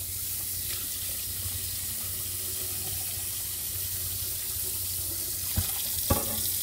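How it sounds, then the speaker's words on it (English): Tap water pours steadily into a warm vintage cast iron skillet, a continuous close hiss and splash with a couple of brief knocks near the end. "So I'm going to run some water in it."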